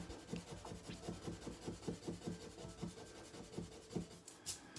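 Ink is scrubbed off a finger with a Mono Tombow eraser in quick, faint, rhythmic rubbing strokes, about a dozen back-and-forth passes, with a brief hiss at the end and no talking.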